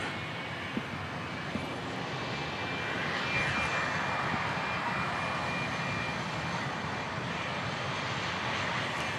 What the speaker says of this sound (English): This should be flight 1585, the 737-800, off to Denver, Colorado.